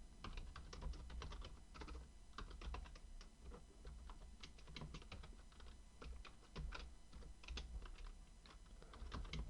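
Someone types code on a computer keyboard. The keystrokes come in quick, irregular bursts and short pauses, fairly faint and heard alone.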